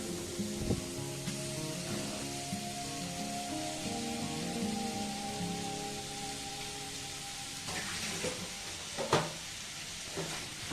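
Ground minced chicken frying with spices in a pan: a steady sizzle under a faint tonal hum, with a few sharp utensil knocks and scrapes near the start and end, and no talk.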